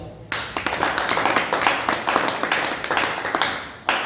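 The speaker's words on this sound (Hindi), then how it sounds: "एक बार ताली बजा दो" A group claps hands together in a quick, fairly regular series of sharp, close claps that stop briefly and then resume with one last clap.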